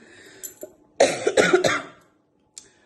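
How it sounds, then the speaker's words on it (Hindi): A short burst of three or four harsh coughs in quick succession, close and fairly loud, followed by quiet. "और एक खांसी"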